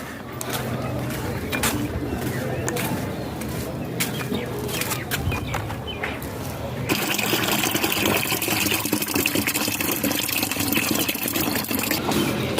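Fresh water is collected for the birds' drinking water, running and splashing into a container, turning into a steady rushing flow midway, while chickens cluck faintly nearby.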